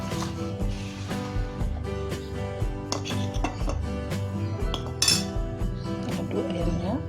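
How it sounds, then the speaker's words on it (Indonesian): Chicken pieces coated in seasoned flour are stirred in a bowl, with repeated metallic clinks and scrapes of a utensil against the dish over steady background music. "Kita aduk ayamnya."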